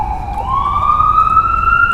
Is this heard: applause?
no